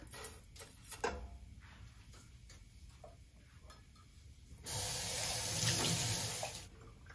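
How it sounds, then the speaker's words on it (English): Low-fat milk is poured into a pan, a steady liquid splash and hiss starting suddenly after a few light ticks and clinks, lasting about two seconds and then tapering off, close and clear. "I'm gonna add my milk."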